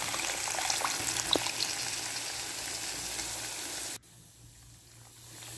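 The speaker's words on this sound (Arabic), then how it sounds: "هنا هبدأ اضيف المية الدافية" Warm water poured steadily into a pot of trotters, a continuous close rushing gush that cuts off abruptly near the end, leaving a quieter background hiss.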